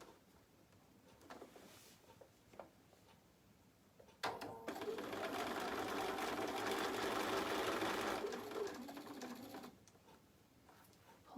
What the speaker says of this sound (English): I can take this back over to my sewing machine and I'm going to stitch